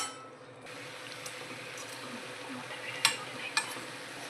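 Chana dal and ridge gourd sabzi is stirred and sautéed in a pan, giving a soft steady sizzle with a few sharp scrapes and clinks of a spoon against the pan.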